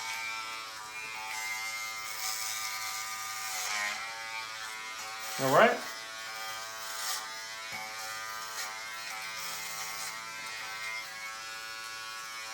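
An Andis Essential hair clipper buzzes steadily as it cuts hair, a continuous electric hum with a brief louder surge midway, while a person talks over it.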